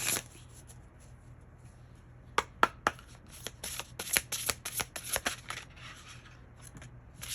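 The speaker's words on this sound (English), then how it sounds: "I want to shuffle them first because that was just nasty." Oracle cards are shuffled by hand in a quiet room, with a burst of sharp riffling snaps and flutters following a brief lull.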